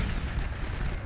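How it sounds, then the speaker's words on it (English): A big explosion in the vehicle combat game Crossout, a dense, loud roaring blast that fills the moment with rumbling low-end noise, heard alone without talk. "That's because of that big, big, big, big explosion."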